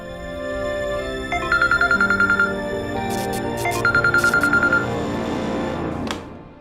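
A phone rings with a bright electronic ringtone, two bursts of rapid repeating beeps over a busy background, ending in a short click.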